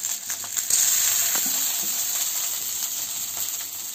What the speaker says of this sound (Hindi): हम इनको डीप फ्राई करेंगे हल्के, जब तक इनमें आवाज़ आती है चट चट चट चट की